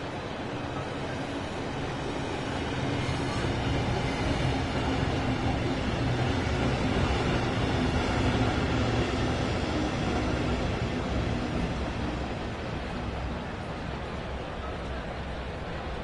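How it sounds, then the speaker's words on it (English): A train in the video game Train Sim World 3 rumbles steadily as it pulls into a station, a broad noisy roar that swells slightly in the middle and then eases off. "Your train has arrived."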